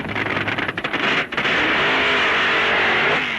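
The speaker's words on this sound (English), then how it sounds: "still both cars scream the full quarter mile" 1960s funny car drag racers accelerating down a quarter-mile strip, a loud, roaring, rising engine scream with a broad noisy rush and no talk.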